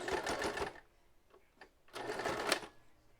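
A sewing machine back stitching, two bursts of rapid mechanical needle chatter separated by a short pause with faint clicks, close and fairly quiet.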